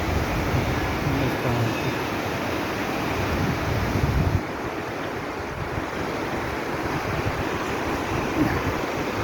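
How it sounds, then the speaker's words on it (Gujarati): A waterfall pours from Droneshwar dam into a river in the Gir forest, making a steady, dense roar of rushing water mixed with wind buffeting, slightly quieter for the second half. "સામે ધોધ પડે છે ડેમનો."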